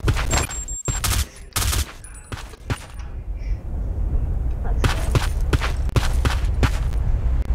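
Gunfire fills a round of the online shooter Black Squad, with sharp single shots and rapid bursts coming loud and close. Dense firing continues under the game's background noise.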